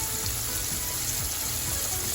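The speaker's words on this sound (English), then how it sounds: "you can hear the difference when your fried food is done" Shrimp deep-fry in hot grease with a dense, continuous bubbling sizzle that stays loud and even throughout, with no pauses and no voices.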